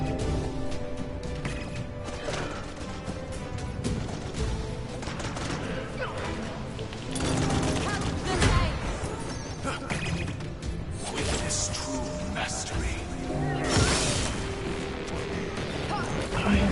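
Gunfire in a video game: a dense stream of crackling shots and impacts, steady and fairly loud with a few heavier bursts, over busy game sound and music.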